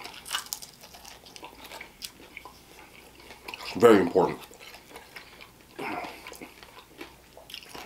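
Crunchy extra-well-done Wingstop chicken wings are bitten and chewed up close, with a loud crisp crunch at the center among softer chewing and brief speech.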